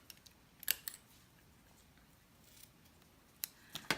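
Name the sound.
scissors cutting ribbon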